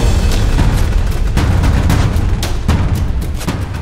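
Loud, repeated gunshots crack out at irregular intervals, each a sharp burst over a dense, rumbling background.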